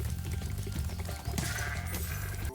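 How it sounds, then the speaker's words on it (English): Goats bleat repeatedly while charging in the Stone Hill level of the video game Spyro the Dragon, several loud, wavering cries rising over the game's background music. "I challenged the goats to a charging battle."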